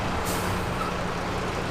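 A multicoloured Guatemalan bus brakes near a busy market, giving a steady hiss of air brakes over constant low engine rumble with a brief brighter burst early on.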